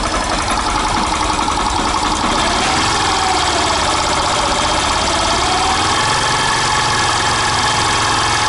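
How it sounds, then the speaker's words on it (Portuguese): A 2017 Honda Factor 125 fuel-injected motorcycle idles with the clutch released, a loud steady engine drone with a rough metallic rattle from the clutch bell, continuous and close with no talk. "Tá com aquele problema de fazer barulho na campana."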